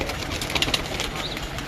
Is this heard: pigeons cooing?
yes